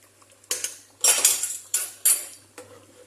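Meat being stirred with yogurt for beryani, a spoon clinking and scraping against a metal pot in several separate bursts, close and fairly loud with no talking.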